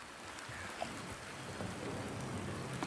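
Steady rain falls in a dark garden area of the video game Silent Hill 2 Remake, a faint, even patter and hiss with no voices.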